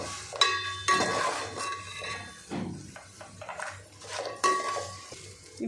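Flattened rice poha tossed and stirred in a pan for tempering, with clinking metal spoon scrapes and pot knocks in irregular bursts, close and moderately loud with no talking.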